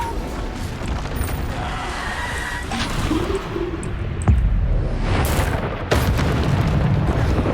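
Spell explosions in the Hogwarts Legacy video game, a dense barrage of booming blasts and crashes over continuous battle noise, with sharp impacts recurring throughout.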